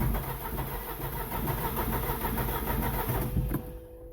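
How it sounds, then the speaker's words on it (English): A Smart Fortwo diesel engine cranks steadily for about three and a half seconds, with a rhythmic churning starter, then stops without catching. The sound is loud and close, with no talk over it. "Will she start?"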